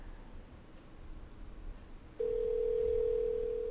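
A steady, unbroken electronic telephone tone sounds during a call, starting abruptly partway through and holding at an even level against a low background hiss.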